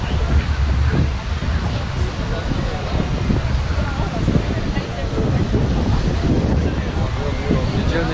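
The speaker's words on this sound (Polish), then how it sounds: "Taka plaża." Beach north of Sydney, Australia, with waves and steady wind buffeting the microphone, a constant loud roar of surf and gusts throughout.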